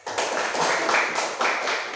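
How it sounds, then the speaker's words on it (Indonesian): Students clap for a presenting group in a classroom, a brief burst of many hands applauding at once, close and fairly loud, with a few sharper individual claps standing out. "Tepuk tangan dulu untuk kelompok 1 dan untuk semua kelompok yang ada"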